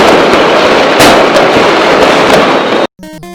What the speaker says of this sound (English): Should I set off the fireworks now?